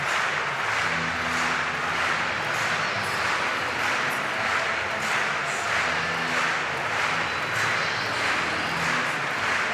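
A stadium crowd at the 2022 European Championships athletics in Munich claps in steady unison to a 1980s hit, a dense, even rhythmic pulse of many hands filling the whole stretch.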